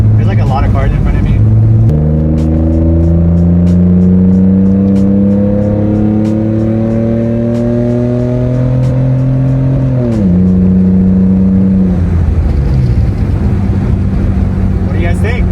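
A 1999 Nissan Skyline GT with a loud Tomei exhaust drives along, its engine note climbing steadily under acceleration, dipping briefly as it lets off, then pulling again, loud and close throughout.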